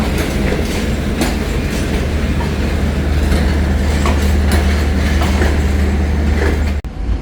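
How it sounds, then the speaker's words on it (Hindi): The Rahman Baba express pulls out of Faisalabad railway station, a loud, close, continuous rumble of rolling coaches with clickety-clack over rail joints and faint wheel squeal, with no talk, cutting out abruptly near the end. "और जी रहमान बाबा रवाना हो चुकी है"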